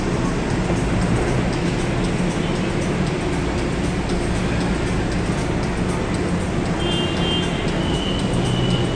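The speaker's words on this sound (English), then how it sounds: "The train is getting gonna leave." LRT Line 1 train pulling out of Doroteo Jose station in Manila, a steady loud low rumble and rolling rail noise throughout, with a faint high whine toward the end.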